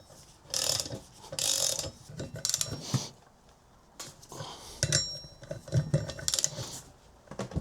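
Metallic ratcheting and clinking of a wrench tightening nuts on the chain of a Kawasaki Versys 1000 SE motorcycle, several short bursts of clicks separated by brief pauses, close and fairly quiet.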